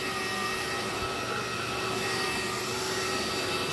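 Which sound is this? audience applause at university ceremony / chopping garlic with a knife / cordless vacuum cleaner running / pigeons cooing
cordless vacuum cleaner running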